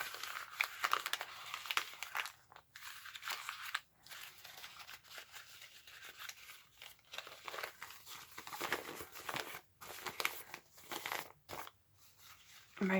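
Thin vintage paper is handled gently while a lace journal is prepared, giving soft crinkling and rustling with brief pauses, faint and close.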